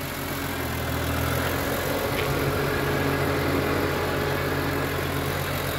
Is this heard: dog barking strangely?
no